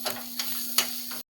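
Goat brain frying with masala on a griddle gives a steady close sizzle, punctuated by several sharp scraping stirs, before cutting off abruptly.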